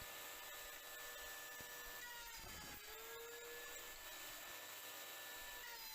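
Router cutting a groove in wood for the base of a wooden flower pot, with the wood mounted on a sled in a table saw box; a steady, loud high-pitched whine runs throughout, with a brief lower surge near the middle.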